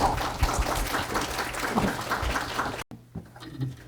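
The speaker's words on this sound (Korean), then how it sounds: "마찬가지로 큰 박수로 맞이해 주시면 감사하겠습니다." An audience at a university humanities-week ceremony applauds to welcome a vice president giving congratulatory remarks. Many hands clap steadily at moderate volume, then the sound cuts off sharply and a few faint scattered claps and room noise trail after.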